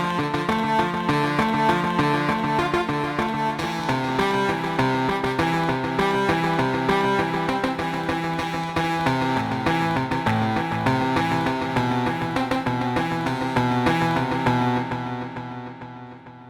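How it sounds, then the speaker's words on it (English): A rippling guitar arpeggiator pattern from Sample Logic Cinematic Guitars cycles steadily for around fifteen seconds, bright repeated plucked notes over a sustained low bed, before fading out in the last moments. "I have an arpeggiator right here from the Cinematic Guitars tree."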